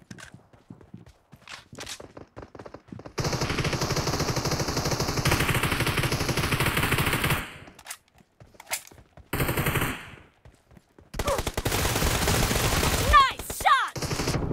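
Gunfire in the mobile battle royale game BGMI: long loud sustained automatic bursts interrupted by short pauses, with a few brief single shots and some game sound effects.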